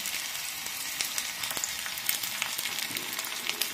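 Garlic and ginger sizzle steadily in hot oil for a tadka, with dried chillies already in the pan, while making besan kadhi. The crackle is continuous and close, with small sharp pops scattered throughout and no voices.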